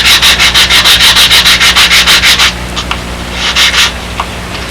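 A sanding block dresses off the center fillet block on a Windy Sidewinder model airplane: about fifteen quick, even rubbing strokes, close and loud, then a few softer, irregular scrapes with no talking.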